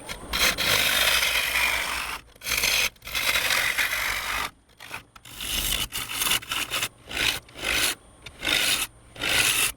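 A gouge on a wood lathe cuts a large wooden bowl, making loud, close rasping scrapes in rhythmic strokes separated by brief pauses, mixing pull cuts and push cuts.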